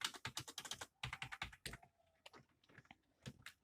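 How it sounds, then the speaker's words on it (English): Keys clatter on a cheap gaming-style computer keyboard, with quick bursts of close, crisp clicks that pause briefly and then resume in uneven runs. "So as you can see here, this is the buttons of the keyboard."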